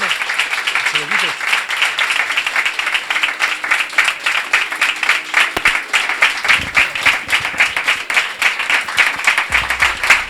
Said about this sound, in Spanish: Le damos un enorme aplauso.